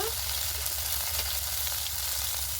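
Ginger-cumin paste hitting hot oil for a spicy magur fish dish, a dense, even sizzle over a low hum, close and unbroken with faint stirring touches and no speech.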